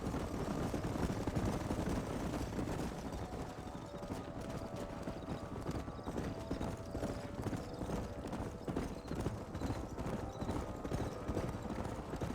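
Herd of horses galloping in the Red Dead Redemption video game, a dense steady clatter of many hooves with an occasional whinny, close and continuous throughout.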